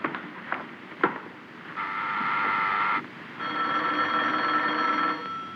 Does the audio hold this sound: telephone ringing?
yes